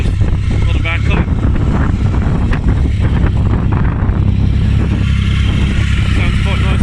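Motorcycle with two under-seat exhausts idling and running nearby, a loud continuous rumble mixed with wind buffeting and brief voices.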